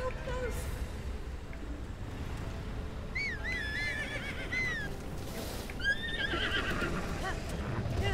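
A horse in The Legend of Zelda: Breath of the Wild gives two whinnies in the middle of the clip. They sit over steady game background noise and rumble.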